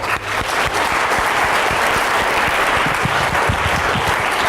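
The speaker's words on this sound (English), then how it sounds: "Give her a large round of applause" A seated audience bursts into loud, sustained applause for the next speaker, a dense, steady clapping roar with no voices over it.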